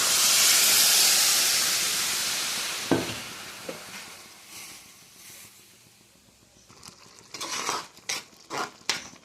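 Spice water hits a hot pan and bursts into a loud hissing gush of steam that slowly dies away, followed by a few clatters and scraping stirs at close range.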